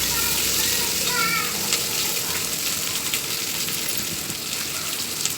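Chopped vegetables for a mixed vegetable soya pulao, such as carrots, potatoes, beans and peas, are rinsed in water in a home kitchen, giving a steady, loud splashing hiss that carries on throughout.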